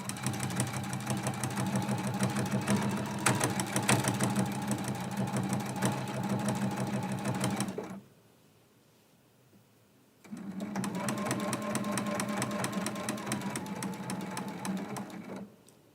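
A sewing machine stitches a quilt block in fast, even bursts, running steadily for about eight seconds, pausing briefly, then resuming at the same brisk mechanical rhythm, close and clear.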